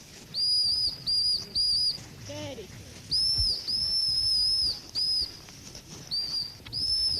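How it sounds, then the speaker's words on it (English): A high, shrill dog handler's whistle blown repeatedly in short and longer blasts at a bird shoot, sounding again and again over faint outdoor background noise. "Exasperated, she whistles continually to try to make the dog stop and pay attention."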